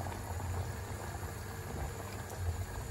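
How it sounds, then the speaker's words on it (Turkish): A pot of water with salt and butter for rice pilaf boiling steadily, a dense continuous bubbling rumble, faint and unbroken with no voices. "Kaynamaya başladığı için artık altını kısabilirim"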